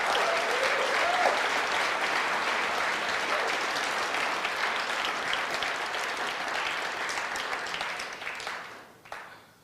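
A large audience at a Rand Paul speech in Berkeley breaks into sustained, dense applause, steady for most of the stretch before fading out near the end.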